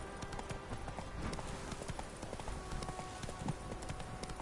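Horse hooves galloping in The Witcher video game, a quick, even clip-clop rhythm close and prominent, with faint game ambience underneath and no talking.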